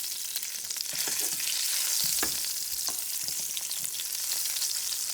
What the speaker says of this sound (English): Now I'm going to turn it around.